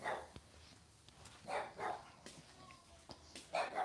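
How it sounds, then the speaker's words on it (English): A dog next door barks several times, sounding fairly distant and muffled, with a few short yips spread out in an irregular pattern, alongside faint kitchen clatter. "Man, that dog next door."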